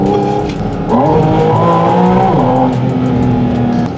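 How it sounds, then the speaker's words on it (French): A Porsche with a Tex-Rex interior pulls away, its engine loud and close, revving up through steady rising tones with a brief tyre squeal, the drone continuing throughout without speech. "On est parti les amis, on va faire un petit tour de voiture"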